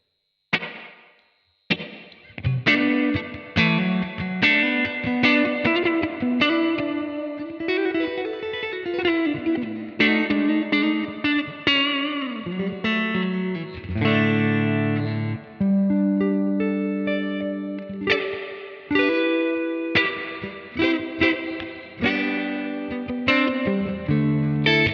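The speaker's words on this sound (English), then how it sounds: "Nice plate reverb." Electric guitar played through a Blackstar Amped 2 with a plate reverb effect: picked single notes and chords ring out clearly, each attack trailing into a smooth, lingering reverb tail, with short pauses between phrases.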